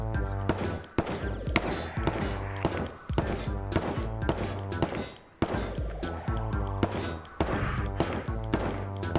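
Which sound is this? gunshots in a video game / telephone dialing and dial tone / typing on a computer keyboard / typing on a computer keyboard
gunshots in a video game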